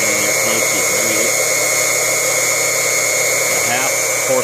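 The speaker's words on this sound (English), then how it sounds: "a 1/2 horsepower cast iron transfer utility pump" A 1/2 horsepower cast iron transfer utility pump runs with a loud, steady electric motor hum and high whine, continuously up close; faint voice-like sounds flicker beneath it.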